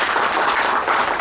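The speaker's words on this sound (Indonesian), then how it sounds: "Sebelum saya suruh tepuk tangan, mereka sudah tepuk tangan." A lecture audience claps steadily and evenly throughout a short stretch of dense applause, with no pause and no voices above it.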